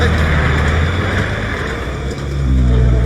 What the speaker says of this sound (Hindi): चलाओ मेरे पे गाड़ी